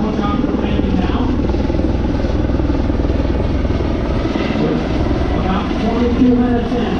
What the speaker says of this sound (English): So here's our Lutheran Air helicopter landing now.